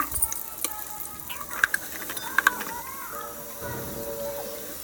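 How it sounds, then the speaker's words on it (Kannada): Onions and spices frying in oil in a biryani pot, a soft sizzle with a few sharp clinks of a metal spoon against the pot, while a voice talks quietly over part of it. "ಈರುಳ್ಳಿ ಹಾಕ್ಕೊಂಡು ಒಂದು ಸ್ವಲ್ಪ ಗೋಲ್ಡನ್ ಕಲರ್ ಬರೋ ಹಾಗೆ ಫ್ರೈ ಮಾಡ್ಕೊಳ್ಳೋಣ"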